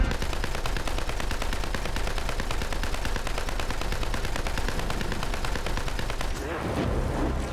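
Sustained rapid automatic gunfire in Borderlands 3 rattles continuously for several seconds at a steady rhythm, loud and dense, with voices faintly mixed in.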